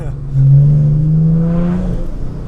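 A 2014 BMW 330d F31 Pack M with a Stage 2 tuned 3.0-litre six-cylinder diesel making 420 hp accelerates. A rising turbo whine and engine note swell steadily from inside the cabin.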